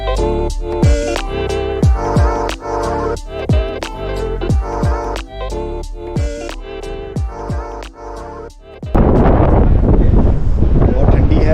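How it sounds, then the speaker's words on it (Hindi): Strong wind buffets the microphone with a loud, broadband roar on a container ship's deck, preceded by rhythmic tonal music with sharp percussive hits. "बहुत तेज़ हवा भी है"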